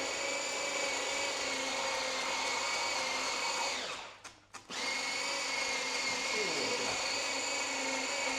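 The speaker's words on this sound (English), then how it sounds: "Good blender." A blender whizzing smoked mackerel pâté whirs loudly and steadily, cutting out for a brief moment midway before spinning back up to full speed.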